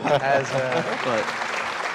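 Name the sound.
live audience applause for a podcast guest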